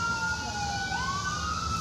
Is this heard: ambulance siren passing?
yes